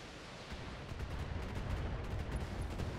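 Mech weapons firing in BattleTech, a dense continuous rumble of heavy blasts and crackle, low and steady at moderate volume with no clear separate shots.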